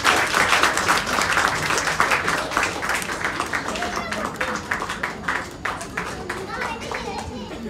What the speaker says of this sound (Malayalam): വലിയൊരു കൈയടിയോടുകൂടി തന്നെ നമുക്ക് ശരിയാക്കാം.